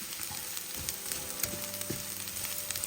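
Semiya vermicelli roasts in a pan with masala, giving a quiet, even sizzle with light stirring scrapes and small clicks, heard close and without talk.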